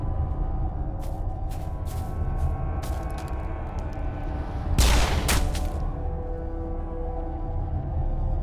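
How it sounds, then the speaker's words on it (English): Grenades blast in a Mass Effect 1 firefight: a run of sharp cracks and crackling bursts, then one big booming explosion near the middle that fades into lingering rumble and debris. "Just drop like 10 grenades down there, just to be sure."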